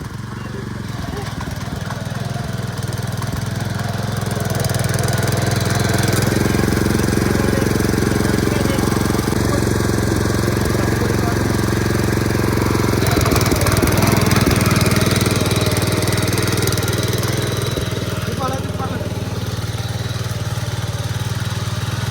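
A power weeder's engine runs in first gear in a farm field, a steady loud mechanical drone with a rough, knocking edge that swells slightly in the middle and carries on without a break; voices may be faintly present beneath it.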